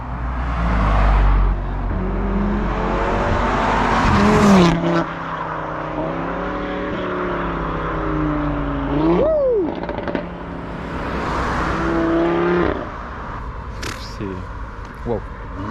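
A Volkswagen Scirocco drives past with rising and falling revs and a rough engine note, close and fairly loud, while people talk over it throughout.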